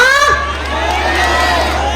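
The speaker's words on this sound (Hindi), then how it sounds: "अगर आनंद आ रहा तो ताली बजा के बताओ" Crowd at a devotional Hindu jagran (Mata Bhagwati night vigil) in Aligarh, Uttar Pradesh, cheering and clapping loudly and continuously over a steady hum, with shouts rising throughout.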